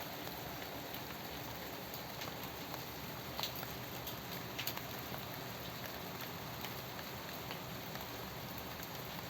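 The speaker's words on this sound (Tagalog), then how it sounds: "Nag-ulan ngayon dito sa amin guys." Rain falling over a small apartment garden of tomato and eggplant plants, a soft steady patter with scattered distinct drop ticks, fairly faint and even throughout, no voices.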